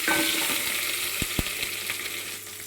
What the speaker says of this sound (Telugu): తాలింపులో కర్రీకి జీలకర్ర కొంచెం కదండి కరివేపాకు కొంచెం